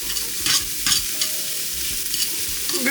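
Ginger and onion sizzle in a hot pot as a spoon stirs them, with a continuous frying hiss up close and several distinct scraping stirs.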